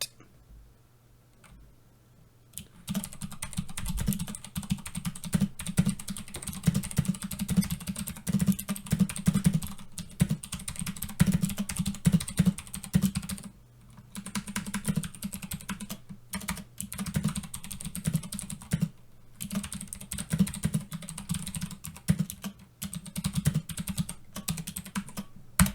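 Steady typing on a Macintosh computer keyboard, a dense run of close, crisp key clicks that starts after a few quiet seconds and continues with brief pauses, with no talking.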